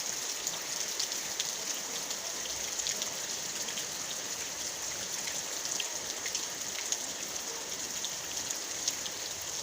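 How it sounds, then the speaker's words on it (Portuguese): Steady rain falls on a rural farm, a dense, even patter with trickling runoff, continuous and fairly loud without any voices. "E chuva caindo."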